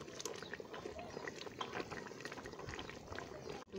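Homemade tomato ketchup simmering in a pan, a steady low bubbling and popping with soft wet spatters, faint and close, without talk over it.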